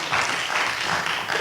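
Audience clapping at a city council committee meeting in Roxbury, a steady spread of many hands across the room, moderately loud and continuous with no voices over it.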